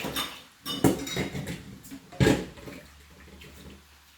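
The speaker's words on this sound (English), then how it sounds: "Let me wash my hand." Hands are washed under a running kitchen sink tap, with splashing bursts and a couple of clattering knocks against dishes, close and alone.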